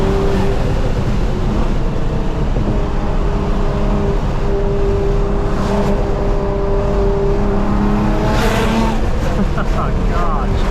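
A 700 hp Nissan R35 GT-R is driven hard along canyon roads, its engine droning loudly and steadily throughout with rising and falling revs, heard from inside the car under continuous road and wind noise.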